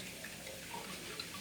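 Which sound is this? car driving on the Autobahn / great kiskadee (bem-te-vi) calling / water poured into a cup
water poured into a cup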